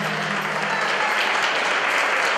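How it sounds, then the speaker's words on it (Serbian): An audience at the Duvanjska Večer 2015 cultural evening gives a folk ensemble from Munich a dense, sustained round of applause, loud and continuous throughout with no distinct voices. "Jedan veliki aplauz za naše kulturno-umjetničko društvo iz Minhena."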